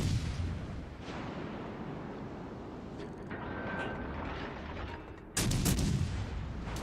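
Warship guns firing in the World of Warships Legends video game, rumbling booms under a dense battle din, with a sharper, louder blast near the end and no voices.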